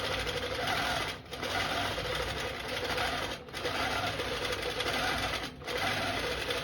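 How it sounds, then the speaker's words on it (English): A computer-guided quilting sewing machine stitches a quilt block, its steady close whirring broken by two short pauses. "I'm going to say resume, and it's going to take off and start stitching."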